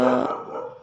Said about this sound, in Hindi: तो ये कुत्ते भी भौंक रहे हैं